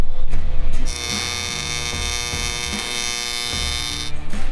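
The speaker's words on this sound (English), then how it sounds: "the big humongous gap is filled and I didn't even ruin Sean's work" Electric arc welding fills a large gap in metal, giving a steady buzzing, crackling hum that holds evenly for several seconds with no talk over it.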